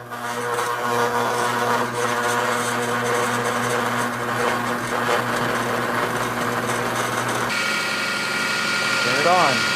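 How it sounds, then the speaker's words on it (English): A food processor chops green pepper, Spanish onion and mushrooms with a steady, loud motor whir that runs continuously, its pitch shifting near the end, with faint background voices at times. "Slice them in half and into the food processor."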